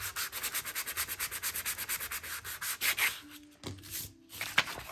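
A coarse sanding block rubs along paper edges for junk journal distressing, giving quick rhythmic scratchy strokes that carry on for about three seconds, then a few slower, scattered rubs and a pause, close up.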